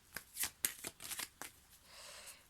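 Tarot cards are handled and drawn in a quick sequence of crisp, papery flicks and slaps, close and fairly loud, ending in a softer rustle.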